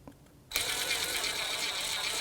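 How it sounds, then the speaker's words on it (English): An electric impact tool spins a 14mm socket to bottom out the caliper bolts on a 2011-2017 Honda Odyssey, starting abruptly after a quiet half second and then running as a steady, close, rattling mechanical whir. "Just going to take my electric tool and just bottom them out."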